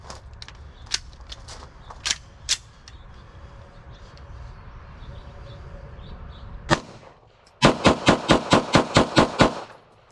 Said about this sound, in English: Okay, we'll do a little rapid fire here. I got 10 rounds in each one of these mags.